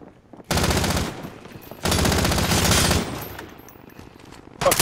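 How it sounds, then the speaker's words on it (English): Bursts of automatic gunfire in Call of Duty Warzone, two long rapid-fire volleys separated by a pause, then a short final burst, loud and close with no talking. "I shot him right through you."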